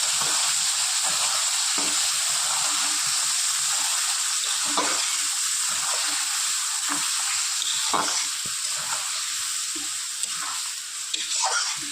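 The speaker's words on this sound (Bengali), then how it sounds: "ভালো করে কিছুক্ষণ কষিয়ে নেব, যাতে পেঁয়াজ রসুনের গন্ধটা চলে যায়।" Spice paste of onion, garlic, ginger, tomato and green chilli sautéing in a pan with potatoes and cauliflower, a constant bright sizzle broken by intermittent spatula scrapes and taps, steady and close without talk.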